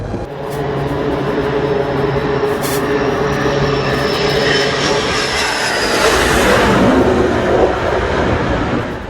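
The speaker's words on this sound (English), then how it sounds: "a US Navy jet returns from a 7-hour combat mission" US Navy jet returning from a combat mission to the carrier USS Theodore Roosevelt over the Arabian Gulf, a loud sustained roar and whine that swells and surges toward the end.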